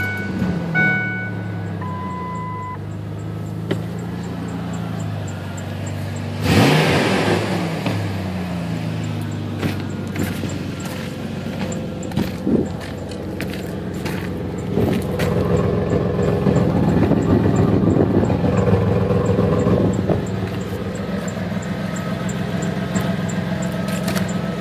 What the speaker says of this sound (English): So I had to go and put a new motor in this thing. And it runs and sounds much better than it did before.